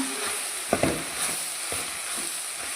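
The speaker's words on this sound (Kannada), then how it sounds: "ಈಗ ಇದನ್ನು ಒಂದು ಸಲ ಚೆನ್ನಾಗಿ ಮಿಕ್ಸ್ ಮಾಡ್ಕೊಳ್ಳೋಣ." A spatula stirs cabbage palya seasoned with garam masala in a frying pan, with a few brief scraping knocks over a steady, fairly loud sizzle, and no voices.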